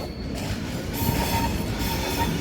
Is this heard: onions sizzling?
no